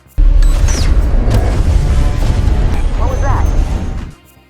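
Explosion in an action film set underwater, setting off a rockslide on the seabed: a deep rumbling boom with creaking, grinding debris lasting about four seconds, heard under a narrator's voice.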